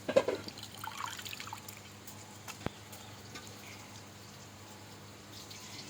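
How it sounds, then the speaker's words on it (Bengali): Water trickles and splashes steadily while raw beef is rinsed before cooking in mustard oil over a clay stove, with a few louder splashes at the start and a sharp knock midway; no talking. "এখন আমি মাংসগুলো ধুয়ে নিব।"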